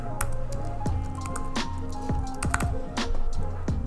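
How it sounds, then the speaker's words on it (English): Fingers type a card number on a computer keyboard, a run of quick, uneven key taps close to the microphone, with several louder clacks standing out over a faint steady hum. "So I enter my card number"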